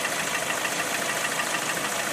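A Lada Priora with the 126 engine idles with piston knock, making a steady, close, rough rattling drone with no voices over it.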